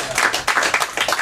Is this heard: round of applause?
yes